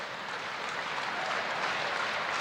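A volleyball crowd at a men's college match against Concordia claps and cheers on its feet in a dense, steady roar of applause, with no single voice standing out.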